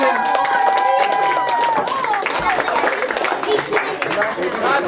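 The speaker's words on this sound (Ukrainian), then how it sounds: "Так, оплески, оплески, оплески." Applause and cheering from a crowd at a youth orienteering award ceremony, a dense patter of clapping mixed with chatter, moderately loud and steady, with a voice calling out over it.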